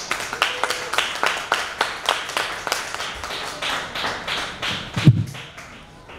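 A small audience at an open mic night in a Richmond, Virginia bar claps for the next performer: sparse, uneven individual handclaps, fairly close, thinning out after a few seconds.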